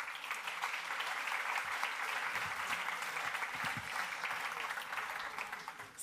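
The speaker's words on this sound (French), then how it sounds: "on les applaudit" Studio audience applause at a French talk-show event celebrating innovation: steady, fairly loud clapping from a sizeable crowd sustained throughout, with some faint voices mixed in.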